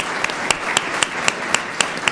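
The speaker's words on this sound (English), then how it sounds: "let's give a huge round of applause to our students" Applause for students at a school district governing board meeting, with one nearby pair of hands clapping in a crisp, steady beat over a softer wash of clapping.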